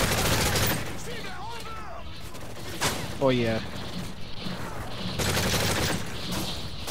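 Bursts of gunfire in Call of Duty: Modern Warfare 3 Survival mode on the Dome map, loud volleys at the start and end with quieter gaps between, and someone talking briefly in the middle.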